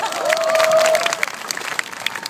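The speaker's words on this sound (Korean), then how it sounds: "여러분 박수 보내주셔야 됩니다." Applause from a gathered crowd at an outdoor rally over a broadcaster, starting fuller and thinning into scattered claps, with a brief whistle or cheer near the start.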